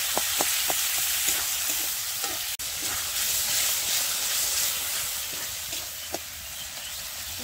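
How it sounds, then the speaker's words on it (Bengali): A spice paste sizzles steadily in a pan with a little water added for a purple cabbage dish, a continuous bright hiss with occasional soft stirring taps. "হালকা কষানো হবে, সামান্য জল দেবো।"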